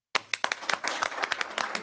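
Applause at a municipal council meeting: a short burst of quick, distinct hand claps from a small group, fairly faint and lasting under two seconds.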